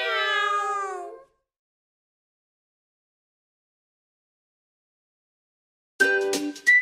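Cat meows inside a children's song: a clear, harmonic meow runs about a second at the start, then silence, then a second meowing burst near the end, close and fairly loud.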